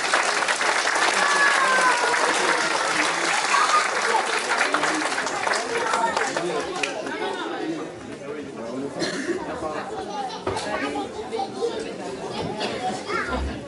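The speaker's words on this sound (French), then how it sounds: "Je crois qu'on peut l'applaudir." An audience applauds at a school orchestra inauguration in Rigny-le-Ferron, a loud, steady wash of clapping mixed with children's chatter, thinning out in the second half as voices take over.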